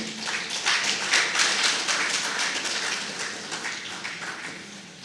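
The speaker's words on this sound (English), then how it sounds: "Please, a round of applause for him." Dense audience applause for a speaker at a 2020 movie premiere sounds as a continuous rattle of many hands clapping together, fairly loud throughout and easing slightly at the end. No one speaks over it.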